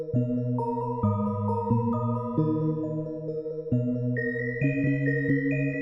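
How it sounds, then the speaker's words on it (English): A reversed bowl-resonance bell sample in Ableton Live plays a slow pattern of sustained, swelling pitched tones that shift in steps and climb higher toward the end, sounding clean and alone without any voice. "I just copied and pasted the first pattern onto this reverse bowl resonation bell"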